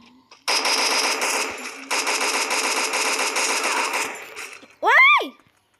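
Rapid automatic gunfire in the battle-royale shooter Free Fire, two long sustained bursts close and loud, followed by a brief sweeping game effect.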